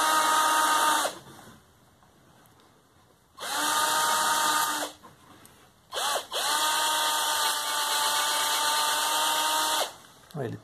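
A power drill drives a small self-drilling screw into the side of a bamboo wall-mounted cutlery holder, whining loudly in three sustained bursts separated by brief pauses. Faint talk can be heard in the gaps.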